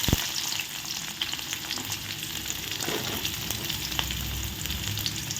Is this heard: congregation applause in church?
no